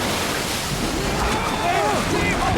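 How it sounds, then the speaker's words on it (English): Strong wind and waves at sea around a rowing boat at night, a dense, roaring gusty wash with wind buffeting the microphone, loud and continuous, with faint shouting voices threaded through the storm. "The winds are too strong!"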